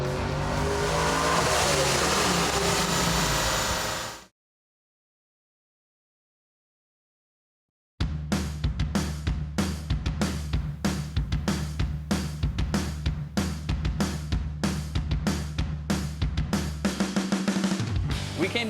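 Supercharged Chevrolet Trailblazer SS drift truck running on a chassis dyno: a loud, sustained engine roar for about four seconds, a sudden silence, then a long stretch of loud, pulsing engine noise over a steady low hum.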